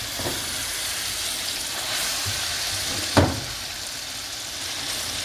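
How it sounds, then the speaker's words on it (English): A steady sizzle of egg sauce frying in a pan, with a brief clatter of a utensil partway through; no talking. "So as you are frying your sauce,"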